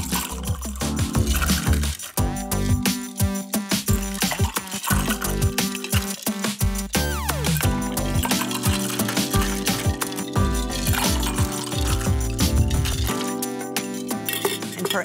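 A cocktail being stirred in a glass, with bright clinks and chimes of ice and spoon repeating throughout over busy background music in a kitchen.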